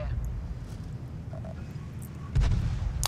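A tank cannon in the World of Tanks video game fires once with a loud, low boom near the end, over a continuous engine rumble and faint battle noise, with someone talking.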